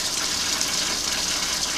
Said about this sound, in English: the water runs down and out our gravity drain